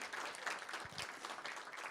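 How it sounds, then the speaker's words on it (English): Applause for a speaker at an online hackathon event, a brief steady patter of many hands clapping, fairly faint and without talk. "People are providing a round of applause for you"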